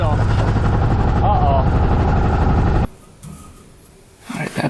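A UTV engine, a $17,000 machine with a cylinder not firing, roars at full throttle for a few loud seconds, then suddenly drops to a low idle with some shuffling and brief noise near the end.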